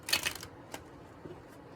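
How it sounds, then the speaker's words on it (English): A deck of cards is shuffled in a quick riffling burst, followed by a few soft, sparse taps and clicks, close and quiet. "I'm just feeling like I need to shuffle a couple more times"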